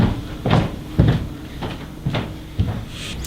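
A door or cabinet is worked several times, each move a dull knock with a creak or rattle, spaced about half a second apart.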